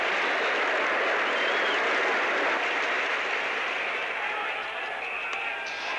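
A West Indian cricket crowd at a 1975 match applauds Clive Lloyd after a big hook shot, a dense, steady roar of clapping and cheering from a large distant stand that fades slightly toward the end.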